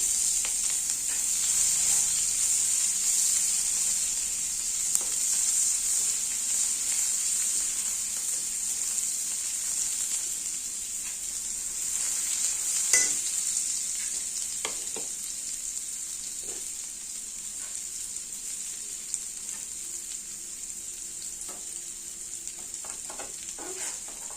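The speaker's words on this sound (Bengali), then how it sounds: "এবার কুচনো পেঁয়াজ দিয়ে দিচ্ছি" Chopped onion frying in oil with whole garam masala and a cinnamon stick for a rohu fish kalia, a steady bright sizzle running throughout with occasional stirring clicks, close and fairly loud, no voices.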